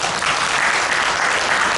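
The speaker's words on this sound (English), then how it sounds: "please give yourself a round of applause." Conference audience applauding, a dense, even wash of clapping filling the whole short moment.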